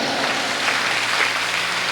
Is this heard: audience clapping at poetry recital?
yes